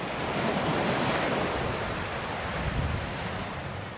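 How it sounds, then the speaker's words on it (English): Sea waves surge through a coastal cave into an inland sea on Gozo, a steady, loud wash of surf and rushing water with wind buffeting, continuous throughout with no talk. "The sea comes through, and there is an inland sea now."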